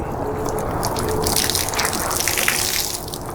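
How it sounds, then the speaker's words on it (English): Water gushing and splattering as a soaked cloth is wrung out, a close, continuous pour that tapers off toward the end. "Now I'm gonna twist it up a bit, wring it, get all the water out."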